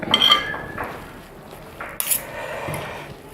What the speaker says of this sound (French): Fatiguer la salade. C'est-à-dire la mélanger bien